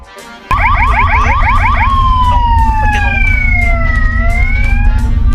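A loud rescue-vehicle siren in the Roblox game The Dead suddenly blares, first in a rapid warbling pattern, then a long sustained wail that slowly sweeps in pitch, over a low engine rumble.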